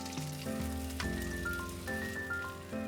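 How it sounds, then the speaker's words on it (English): Onions searing in a frying pan with a steady sizzle, heard close and continuous beneath sustained background music, with no talk over it. "Into a separate pan, sear those onions until brown on one or both sides."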